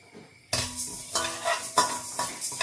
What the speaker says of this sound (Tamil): இந்த வெந்தயத்தை போட்டு வறுக்கிறேன்